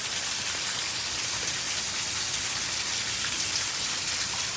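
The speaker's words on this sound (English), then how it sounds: "Look, it's hailing." Hail pelts a roof and rattles down the gutters in a dense, steady, even patter that holds at one level throughout, with no voices over it.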